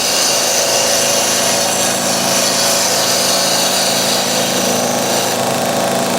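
A slightly rounded skew chisel cuts hard timber on a wood lathe, making a loud, continuous scraping hiss over the steady hum of the spinning machine for the whole stretch.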